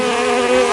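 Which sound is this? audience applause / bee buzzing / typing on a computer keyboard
bee buzzing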